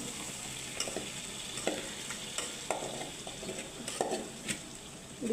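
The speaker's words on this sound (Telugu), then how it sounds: "ఇప్పుడు మనము ఉడికించి పెట్టుకున్న చికెన్ ముక్కల్ని ఇందులో వేసేసుకుంటున్నాం" Boiled chicken pieces tumble into sizzling masala and are stirred with a spatula, the frying hiss broken by repeated scraping strokes and light clinks against the pan at a steady, close-up rhythm.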